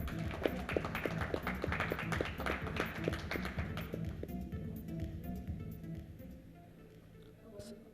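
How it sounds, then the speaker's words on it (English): Applause from a panel-discussion audience for a panelist, a burst of many hands clapping that is dense at first and gradually thins and fades, with voices murmuring underneath. "And a huge round of applause for Mr."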